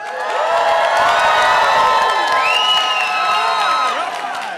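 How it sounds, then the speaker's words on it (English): Children and parents at a Richland School District Two junior scholars event cheer and yell together as a loud, sustained crowd roar with whoops, filling the room for several seconds. "Let's get a nice cheer and yell from you guys."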